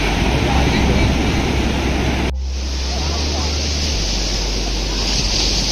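Sea waves roll onto a beach in Goa, a loud, steady wash of surf with heavy wind rumble buffeting the microphone, broken by a brief sharp cut partway through; no speech is heard.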